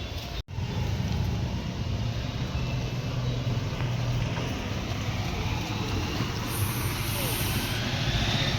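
A vehicle pulls up at night beside a garden, air brakes hissing over a continuous engine rumble, with faint voices in the background.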